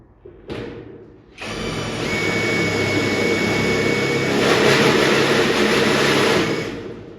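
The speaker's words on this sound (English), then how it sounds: "they are long enough to drill a hole at least" Power drill boring a hole in metal while building an air tank, a brief blip then a sustained loud whirring grind that holds for several seconds before stopping, with no voices.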